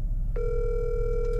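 An outgoing phone call's ringback tone starts abruptly and holds as a steady, clear electronic tone, close and alone without talk.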